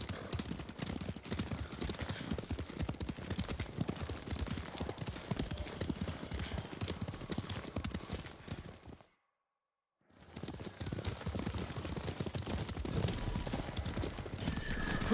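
Horses galloping in Ghost of Tsushima on PS5, a loud continuous rhythmic clatter of hooves with brief whinnies, cutting out to silence for about a second before resuming.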